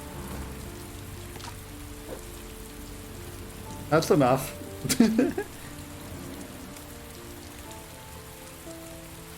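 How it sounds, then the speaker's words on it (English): Rain falls in the video game Heavy Rain, a soft steady patter on surfaces running quietly throughout, with a voice speaking briefly over it midway. "It's raining."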